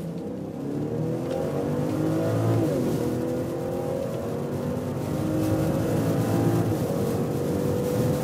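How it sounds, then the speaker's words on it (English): A BMW 540i six-cylinder in sports mode pulls hard on the Autobahn from about 40 km/h, engine note climbing steadily with gear changes, loud and continuous from inside the car. "we go with the Autobahn acceleration, and we'll start at about 40 kilometers an hour, sports mode."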